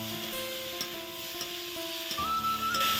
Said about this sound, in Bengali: জিরে ফোড়ন দিয়ে এখন কড়াইয়ে ওই যে যেসব সবজিগুলো কেটে রেখেছিলাম সেগুলো দিয়ে লবণ হলুদ দিয়ে ভালোভাবে